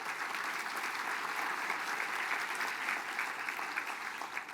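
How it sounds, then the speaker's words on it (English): An audience claps for a woman and her team at a Mille Lacs Band of Ojibwe gathering, a dense, even round of applause that holds steady throughout. "Let's give her and her team a round of applause"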